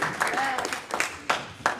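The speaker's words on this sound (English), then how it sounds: "So give everybody else a round of applause." A small audience at a comedy hypnosis show in a high school claps with scattered, uneven applause and a few sharp hand claps, while someone speaks over it.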